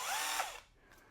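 Small Skil cordless drill spinning up as the trigger is pulled, a close, bright motor whine lasting under a second before winding down, with no voices.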